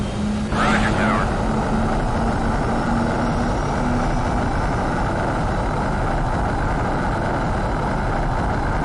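An F-16 fighter jet takes off in a flight video game, its engine giving a loud, steady broadband roar that holds throughout, with a brief whooshing swell near the start.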